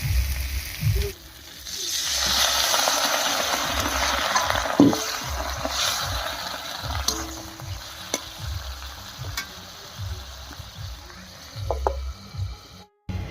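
Catla fish curry masala fries and sizzles in a pan as water is added and the mix is stirred, a steady close crackle with repeated scraping stir strokes and a brief pour.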